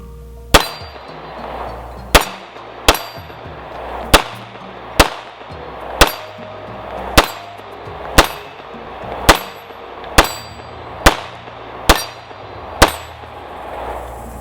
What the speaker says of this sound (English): It shot the heck out of that gong.